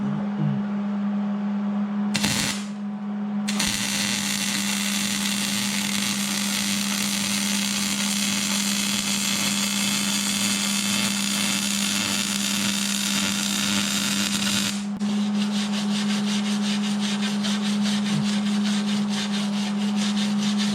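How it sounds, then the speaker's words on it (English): Bottom frame plates and shock towers on a Suzuki Samurai are welded with a continuous close buzzing crackle that pauses briefly near the start and shifts in texture later, over a steady hum. "let me see if I can weld this bottom"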